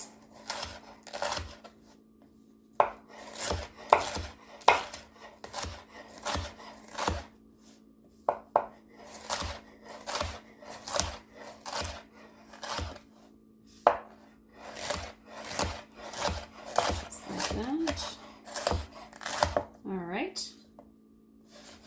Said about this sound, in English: So we're going to chop this about the same size as our onion.